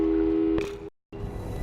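A telephone busy signal from Portal 2 sounds two loud steady tone pulses, then cuts to silence before a muffled rumble of background noise returns.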